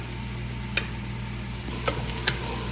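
Chopped onions browning in a pan for an arvi gosht curry, a steady soft sizzle running throughout with a few brief scraping clicks as a spoon stirs them, close and moderately quiet.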